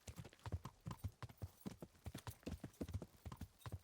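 A horse ridden in the video game Kingdom Come: Deliverance, its hooves clip-clopping in a steady, close, rhythmic gait throughout, with no talking.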